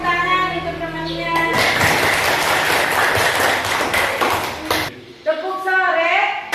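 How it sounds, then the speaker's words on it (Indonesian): A classroom of children breaks into a burst of clapping for a classmate, many hands slapping in a dense, fairly loud patter for about three seconds before it cuts off, with a voice speaking just before and after. "Kasih tepuk tangan untuk temannya."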